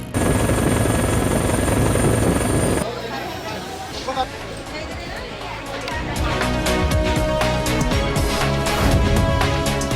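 Steady Bell 212 helicopter rotor thrum with engine whine, joined midway by a crowd's murmuring chatter and clattering activity.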